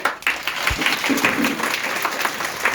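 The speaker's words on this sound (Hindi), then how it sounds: "राहुल रंजन जी, उनका भी स्वागत आप लोग ताली बजाकर करेंगे।" A crowd of schoolchildren and guests claps steadily to welcome a guest at a Sardar Patel death anniversary event, a continuous, fairly close wash of applause lasting throughout.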